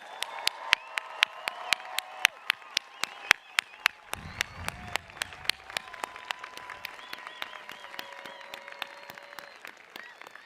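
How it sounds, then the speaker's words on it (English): A commencement ceremony crowd applauds with steady, dense clapping and sharp individual claps near the microphone, and the applause runs throughout at moderate loudness. "How about another round of applause?"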